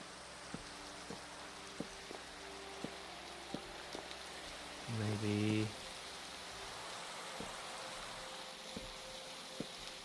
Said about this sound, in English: beautiful time for a rainstorm